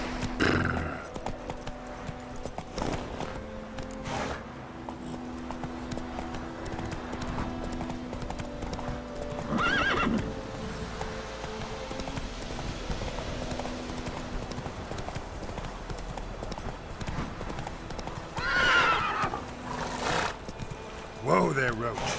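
Roach, a horse in The Witcher 3, trots with steady clip-clop hoofbeats and gives a couple of whinnies, while game voices speak over the sound.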